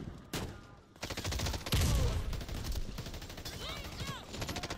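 Rapid bursts of suppressed submachine-gun fire from an ST Kinetics CPW fitted with an angled grip and suppressor in a video game, several sustained volleys with a brief pause, loud and close.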